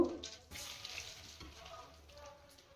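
Asafoetida and curry leaves hit hot oil in a pan for grated mango pickle, giving a sharp close sizzle that flares at the start and settles into softer frying hiss.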